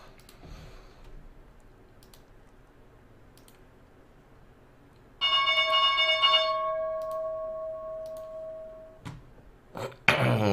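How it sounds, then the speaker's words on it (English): Stock market opening bell rings as a sustained, bright metallic tone with strong harmonics, loud against quiet room noise and fading slowly over several seconds before a few clicks. "Okay, there's opening bell here."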